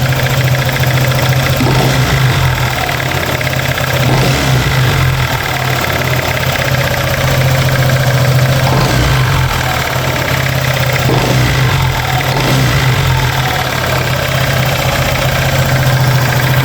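Honda PCX 150 scooter engine running close by, a steady low idle hum throughout with several soft rises as the throttle is blipped, no talking over it.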